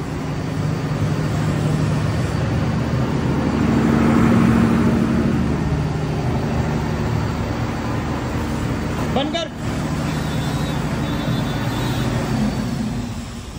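A 125 kVA diesel generator set hums steadily inside a soundproof acoustic enclosure, heard from about ten meters away. The drone stays constant and loud, with a brief sharp disturbance partway through.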